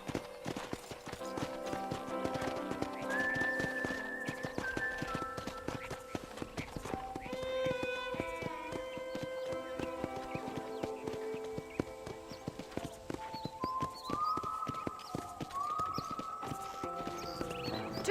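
Steady clip-clop of horse hooves over a backdrop of melodic game music from Red Dead Redemption, with a brief whinny partway through.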